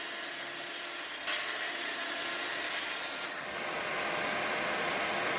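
A track saw rips along the edge of a wooden piece, giving a loud, steady, close-up whine and hiss throughout, with the tone shifting briefly partway through as the blade bites. No voices are heard.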